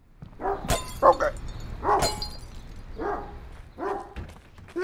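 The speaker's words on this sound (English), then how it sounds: "There's a puppy." In a Half-Life 2 mod video game, a dog gives a few sharp, separate barks and yelps at irregular intervals, loud and close against a quiet background.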